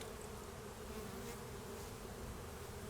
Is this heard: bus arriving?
no